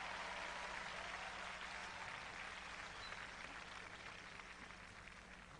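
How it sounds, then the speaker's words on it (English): A pageant audience in Mumbai gives sustained applause for the semi-finalists at a beauty contest grand finale, a steady, distant wash of clapping at low level. "Give them a round of applause."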